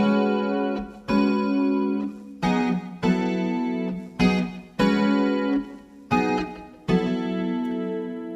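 Guitar strums a sequence of sustained chords, about eight struck in an even rhythm and each ringing out before the next. The sound is close and clear, with no talking.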